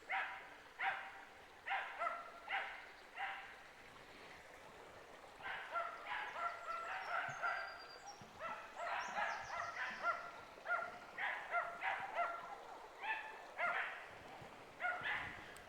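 Dogs bark in woodland by a river, repeated yelps and barks in short bursts with gaps between them, heard at a distance and fairly faint.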